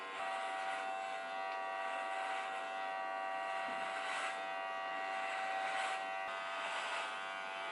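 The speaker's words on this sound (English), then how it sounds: "Are you shaving the whole thing?" Electric clippers shave a head bald, a steady close buzzing hum with a strong tonal whine, shifting slightly as the blades move over the scalp, no voices.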